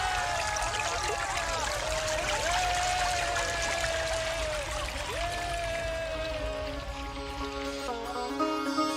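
Water begins to stream out with a continuous pouring, trickling rush that holds steady, joined by a wavering tonal whine over the flow.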